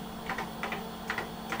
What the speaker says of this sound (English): Keyboard's really nice to use.